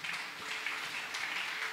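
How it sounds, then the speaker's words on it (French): A church congregation applauding, a steady wash of clapping that sounds somewhat distant and holds evenly for a couple of seconds. "Est-ce que l'Église a applaudi,"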